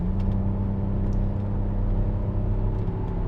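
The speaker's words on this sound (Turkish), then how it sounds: "Ama böyle derinden derinden geliyor motor sesi." A deep, steady 3.2 FSI V6 petrol engine hum fills the cabin of an Audi A6 C6 Quattro, muffled and droning evenly with no voices.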